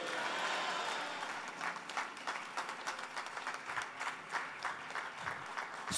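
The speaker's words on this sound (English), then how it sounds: "clap your hands and shout a big amen" A church congregation breaks into hand clapping at the close of a prayer, a steady faint burst of applause throughout, with a little voice underneath.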